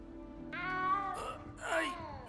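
A cat in the Hogwarts Legacy video game gives two close, clear meows, a drawn-out plaintive cry followed by a shorter rising one, with a brief voice in between.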